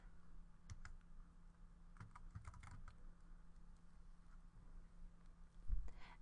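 Soft, faint typing on a keyboard at a classroom SmartBoard setup, scattered key taps in short bursts against a low room hum, with no talk.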